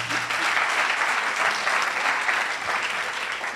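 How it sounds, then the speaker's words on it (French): An audience at a conference on SME support programmes applauds for a few seconds, a steady, fairly loud patter of many hands clapping without speech over it. "Applaudissez, s'il vous plaît."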